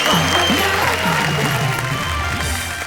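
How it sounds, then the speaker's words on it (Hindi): Audience applause fills the room at a Hindi comic poetry show, a steady wash of clapping with voices speaking over it. "जोरदार तालियों से स्वागत करेंगे हम"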